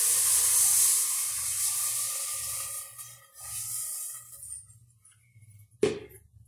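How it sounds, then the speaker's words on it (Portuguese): One litre of water pours steadily into a pressure cooker with a rushing hiss that gradually tapers off, followed by a single sharp knock near the end. "Aqui, pessoal, nós vamos colocar 1 litro de água."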